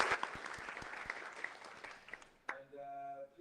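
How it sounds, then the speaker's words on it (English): Applause from an audience at a chess blitz event, sharp hand claps fading over a few seconds before a brief tonal sound cuts in at the end. "Please give them a big round of applause."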